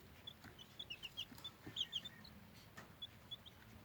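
Tiny Serama and white silkie chicks about eighteen days old chirp and cluck softly in a brooder, a scatter of short high peeps in quick bursts, faint and close, with no talk.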